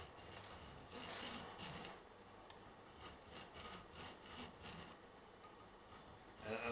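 A small hand saw cuts string slots in a guitar nut held at an angle in a vise, giving a quiet, steady rasping with a regular back-and-forth stroke rhythm, close by and without talk.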